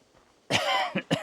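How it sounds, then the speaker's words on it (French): A single close, harsh cough followed by two short cough bursts in quick succession. "c'est la première chose que tu vas entendre, c'est tousser."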